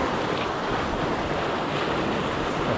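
Ocean waves surge and splash against a cliffside while fishing for trevally, a steady loud wash of surf with wind buffeting the microphone throughout.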